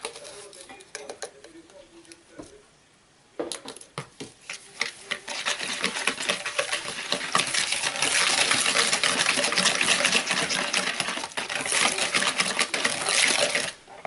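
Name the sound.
whisking batter with a whisk in a bowl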